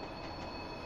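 LPG tank freight train wheels rolling on rails while braking, a faint steady rumble with a thin high squeal in a brief, quiet stretch.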